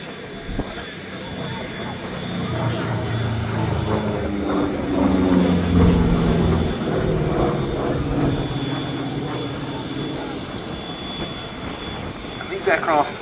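A P-47D Thunderbolt fighter flying a display at Duxford, its engine drone rising and fading as it passes at a distance, heard beneath steady commentary.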